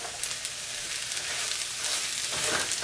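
Chorizo and potatoes sizzle steadily in a pan while being stirred, a continuous bright frying hiss with faint scraping, close and moderately loud, with no voices.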